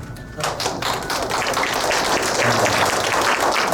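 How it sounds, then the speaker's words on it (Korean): Seminar audience at a distributor sales event clapping on request, a dense spread of hand claps starting half a second in and continuing steadily at even strength, with no talk over it. "박수 한번 쳐보실래요?"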